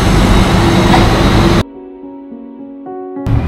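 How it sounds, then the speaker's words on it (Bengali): A train stands at a station platform in Switzerland. A loud, broad rumble cuts off abruptly to a quieter, steady hum with sustained electrical tones, and no voices. "আমার 11টা 16-তে ট্রেন, এই যে দাঁড়িয়ে আছে"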